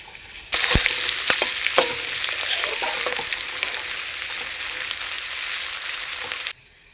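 Chopped onion hits hot oil with tempering spices for a masoor dal, bursting into a sudden loud sizzle that holds steady with a few sharp crackles and spoon taps, then cuts off, with no voices.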